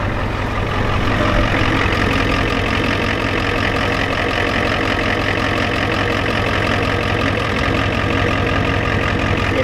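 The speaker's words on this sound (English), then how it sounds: "Now that's how a diesel should idle," A Ford F-250's 7.3 IDI diesel idles loud and close with a steady, even clatter and knock that never changes pace, with no voices over it.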